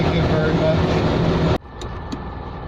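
A Citroën 2CV's small air-cooled twin keeps up a loud, close, steady idle, then cuts off abruptly partway through, leaving a quiet hush with faint ticks.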